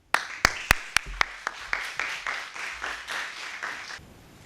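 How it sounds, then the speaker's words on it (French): Audience applause for a national finalist at the Eloquentia 2019 speech contest: a few sharp, loud opening claps, then a looser smattering of hands that thins and fades out after about four seconds. "Et pour cela, je vous demande d'applaudir Utkarsh."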